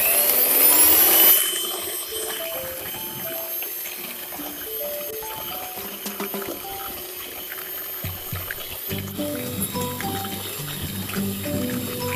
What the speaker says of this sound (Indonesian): Kemudian kita mixer dengan kecepatan tinggi sampai putih kental berjejak.